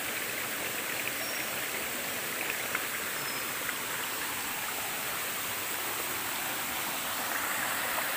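A forest river stream flowing near a waterfall gives a steady, broadband rushing hiss, even and continuous at moderate distance, with no voices.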